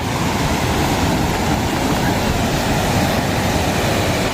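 Big ocean waves by a pier on the northern Peru coast make a loud, constant roaring surge, with no distinct separate breaks and no voices.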